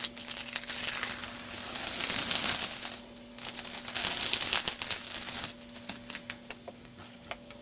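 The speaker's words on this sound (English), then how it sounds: "you're going to want to remove the tape so it doesn't dry right to the material." Tape peeled from Cuben fiber tarp material, a close crinkling, crackling rustle in two sustained bursts, then lighter scattered crinkles and ticks toward the end.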